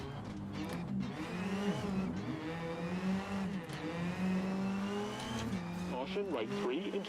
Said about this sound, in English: I can hear that other rally car louder than my own.